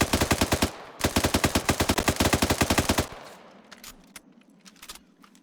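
L110A1 machine gun in the Arma 3 video game, firing two close, loud bursts of rapid rhythmic shots separated by a brief pause, followed by fading echoes and the faint tinkle of ejected casings.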